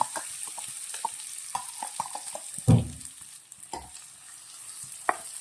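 Chopped onions hit hot oil with mustard seeds, a soft continuous sizzle punctuated by scattered seed pops and one loud splattering burst midway as the onions drop in, close and without talk.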